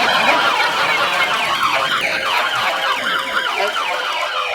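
A child imitates an ambulance siren, a loud wailing up-and-down tone repeating steadily without pause.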